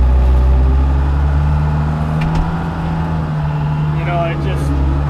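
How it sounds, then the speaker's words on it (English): A skid loader's engine runs loud and close while loading hay on a farm, a steady low rumble with a slight rise and fall in pitch. A voice talks over it. "I do like using the skid loader"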